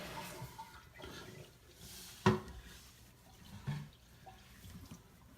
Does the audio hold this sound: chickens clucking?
no